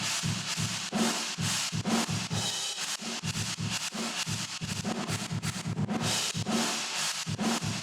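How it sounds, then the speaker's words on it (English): Drum room track run through sidechain compression keyed from the kick and snare, so the roomy wash of the kit pumps and flutters in a steady rhythm, ducking and swelling with each hit, loud and continuous with no voices. "So listen to what sidechain compression actually sounds like on the room track."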